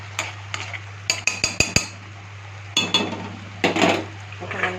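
Mutton frying in a pan is stirred with a metal utensil, giving sharp intermittent clanks and scrapes against the pan in uneven bursts over a low, steady background hum.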